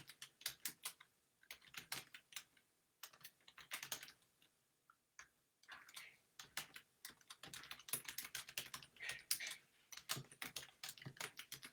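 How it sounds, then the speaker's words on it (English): Fast bursts of computer keyboard typing, close and fairly quiet, with crisp key clicks in quick runs separated by short pauses and no talk. "And then I'm going to type it because I just love it."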